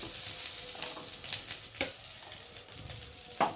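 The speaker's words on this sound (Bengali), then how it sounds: "চিংড়ি মাছগুলোকে ভেজে নিয়েছি, আর এখন আমি চিংড়ি মাছগুলোকে তুলে নেব।" Prawns being lifted out of sizzling oil in a wok, a steady crackling fry with a few sharp clinks of a utensil against the pan, loudest near the end, no voices.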